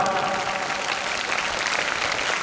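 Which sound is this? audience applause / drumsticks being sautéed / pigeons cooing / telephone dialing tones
audience applause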